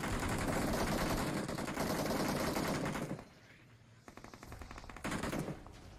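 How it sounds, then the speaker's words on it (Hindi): Bursts of automatic gunfire from the BGMI (PUBG) battle royale game rattle continuously and loudly, then drop after a few seconds to sparser, more distant volleys. "भाई ये लौंडे फायर तो कर रहे हैं साला दिख कोई नहीं रहा"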